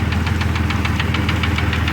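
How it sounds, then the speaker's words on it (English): The engine of a 2002 Jeep Grand Cherokee Laredo knocks in a fast, regular tapping rhythm over a low, steady throb, close and continuous, with no voices. "figure out what that knocking sound is"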